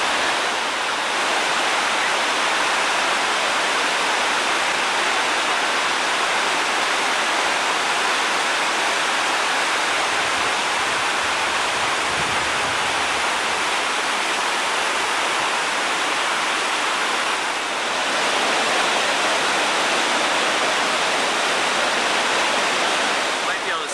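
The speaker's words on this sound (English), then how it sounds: "Now we're looking at the Lahardy Rapids on the Yellowstone River." Rapids on the Yellowstone River rush in a steady, loud broadband roar of churning water that holds constant the whole time, with only slight swells in intensity.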